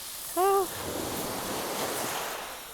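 Surf rolls in steadily on Konyaalti beach in Antalya in late December, a continuous broad wash of sea waves with light wind noise and a brief tonal call near the start.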